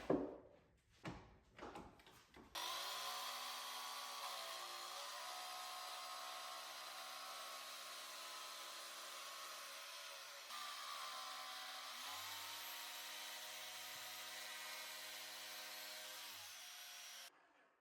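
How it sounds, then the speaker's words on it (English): A jigsaw cuts plywood between drilled holes as part of building a circular saw jig, running as a steady, loud buzzing whine for about fifteen seconds after a few brief handling knocks, with slight shifts in pitch as the cut proceeds. "now I'm gonna connect those holes with the jigsaw"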